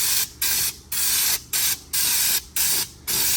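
A spray gun spraying paint hisses in repeated bursts, about five loud passes separated by brief pauses, close up and steady.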